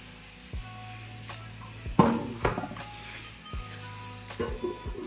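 A lid set on a cooking pot in a home kitchen gives a sharp metallic clang with rattling, among a few lighter clinks of pots and utensils against a low background hum.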